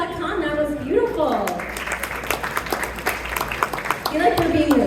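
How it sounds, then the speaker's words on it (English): An audience at an annual dinner claps in a broad, continuous patter that carries on under a voice speaking over a microphone. "Another round of applause for Dr."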